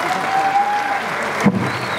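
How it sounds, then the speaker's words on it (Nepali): Crowd at a folk music award ceremony gives a short burst of steady applause, dense continuous clapping with a faint tonal hum underneath. "कृपया जोरदार ताली बजाइदिनु होला।"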